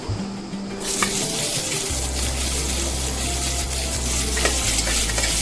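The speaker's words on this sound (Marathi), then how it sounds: "खडे मसाले आपल्याला गरम तेलातच टाकायचे आहेत ते चांगले तळले गेले पाहिजेत" Whole spices drop into hot oil for a spicy Khandeshi mutton curry, setting off a strong, steady sizzle with stirring scrapes and a low hum underneath.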